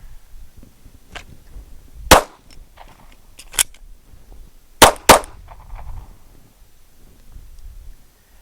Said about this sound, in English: once I fire this one round, the slide's going to lock forward